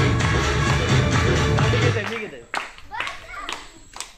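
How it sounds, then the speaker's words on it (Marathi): Hands clapping rhythmically and steadily among a group of women and children at a village Navratri home-minister game in Konkan, with chatter mixed in; the clapping thins out into a few scattered claps and voices after a couple of seconds. "भाऊजी टाळी जोरात वाजवा."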